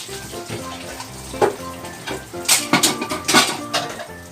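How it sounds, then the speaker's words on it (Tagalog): Dishes, pots and pans clink and clatter in a home kitchen while ginataang tuna cooks, with a soft sizzle underneath and a quicker cluster of bright metallic knocks in the second half. "While cooking and washing all the dishes."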